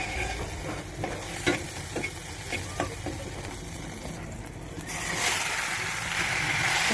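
Water lily stems fry in a pan with a soft crackling sizzle and occasional stirring taps, then a louder burst of hissing near the end.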